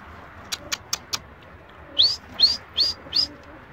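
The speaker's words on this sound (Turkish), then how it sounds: "Gelecek o kuş." Pigeon at a coop: a few quick wing flaps, then a series of soft rhythmic coos, close and clear over quiet background.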